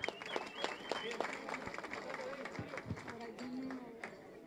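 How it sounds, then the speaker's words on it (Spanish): Crowd applauding winners at a cycling race awards ceremony outdoors, scattered clapping of moderate loudness mixed with voices and background chatter, with a whistle-like tone near the start. "Fuertes aplausos, por favor."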